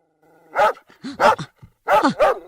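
A dog barks close by in three or four sharp bursts, some doubled, with short gaps between them and no other sound around.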